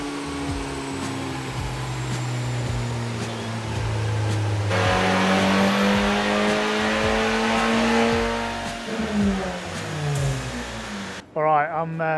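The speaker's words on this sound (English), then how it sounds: "let's get in on the dyno and make some power." A race car engine on a dyno revs up, holds at high rpm and then falls away, a loud continuous drone with rising and falling pitch, with voices over it.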